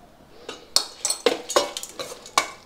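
Lemon rice being stirred and tossed in a pot, a series of sharp spoon scrapes and clinks against the metal in an uneven rhythm over faint background.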